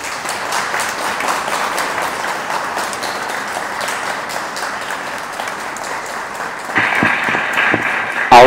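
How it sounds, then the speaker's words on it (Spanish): Wedding guests at a church wedding applauding the newlyweds Blanca and Jairo, steady clapping throughout that swells louder and closer near the end. "Vamos nosotros a recibirlos con un fuerte aplauso"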